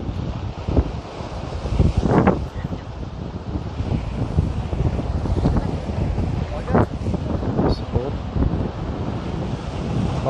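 Strong wind buffets the microphone along the coast beside a park in Samsun, Turkey, as rough, high sea surges nearby; gusty roaring rises and falls with bursts of heavy waves, while someone talks at times.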